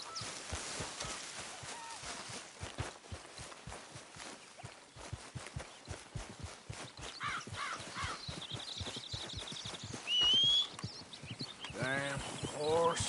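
Horse hooves in Red Dead Redemption 2 on PS4 Pro beat a quick, steady clip-clop that runs for most of the stretch, mixed with other game sounds and a brief high tone near the end.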